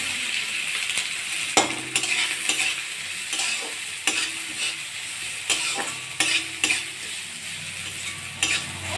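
Carrots sizzling in hot oil with panch phoron in a pan, stirred repeatedly so that a spatula scrapes and taps at irregular intervals over a continuous close frying hiss, with no talking.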